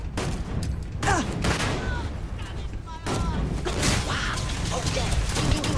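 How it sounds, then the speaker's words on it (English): Enemy gunfire in the video game Starfield, rapid bursts of shots and sharp cracks over a dense, continuous game soundscape, with a voice talking over parts of it. "how are you shooting at me and from where?"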